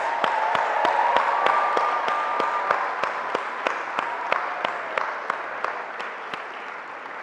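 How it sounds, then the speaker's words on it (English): Graduation audience at a University of Ghana, Legon commencement giving the class of 2018 and their parents a round of applause: a full, sustained roar of clapping from a large crowd, with crisp individual claps recurring steadily as it slowly tapers. "please join me in giving a loud and rapturous round of applause for the class of 2018 and their parents"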